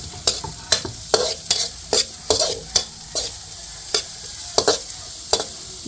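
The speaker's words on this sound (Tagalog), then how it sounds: "Yan, at ilalagay na rin po yung bawang." Garlic and onion sautéing in a pan for bopis, sizzling steadily while a utensil stirs and scrapes in sharp, regular strokes, close and loud, no talking.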